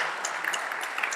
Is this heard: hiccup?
no